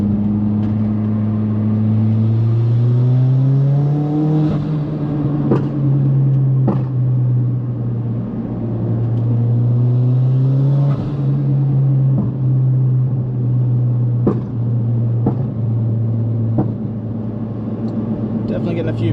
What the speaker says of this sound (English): Definitely getting a few bangs from the exhaust today.